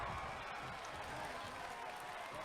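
A wrestling crowd in WWE 2K22, set at a WCW Saturday Night match, cheers steadily as a dense, continuous roar beneath commentary.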